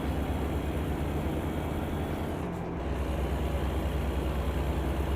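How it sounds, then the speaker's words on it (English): A big V8 Detroit diesel truck engine in American Truck Simulator drones at a steady cruise, a dense, even low rumble that holds throughout with a brief dip in the middle, no voices. "Big American V8 Detroit diesel."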